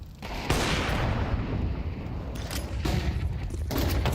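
AK rifle fire in a Counter-Strike esports match, with a sharp shot followed by dense, continuous combat noise and a few more distinct cracks, loud and busy across the whole stretch.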